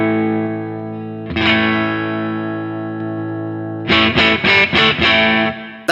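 Electric guitar through a Kernom Ridge overdrive pedal adding a little extra boost: a sustained chord, a fresh strum that rings on, then four quick chopped chord stabs in a row and a final hit, with no talk.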